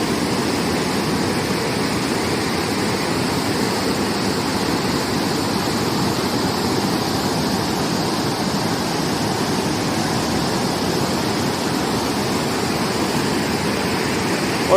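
Loud, steady rushing of the high-running Ravi River at Head Balloki, a dense continuous roar of flowing water that fills the whole stretch with no voices over it.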